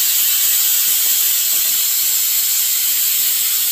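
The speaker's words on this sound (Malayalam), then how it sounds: "അപ്പോൾ നമ്മളെ തക്കാളി നന്നായിട്ടൊന്ന് വഴണ്ട് വരണം" Tomatoes sauté for a curry in a hot pan, giving a steady, loud broadband sizzle that runs evenly throughout with no talk.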